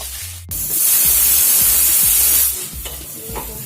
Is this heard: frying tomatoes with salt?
yes